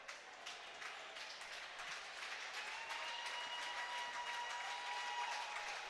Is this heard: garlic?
no